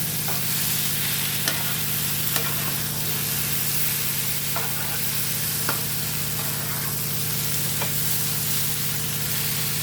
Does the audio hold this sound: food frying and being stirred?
yes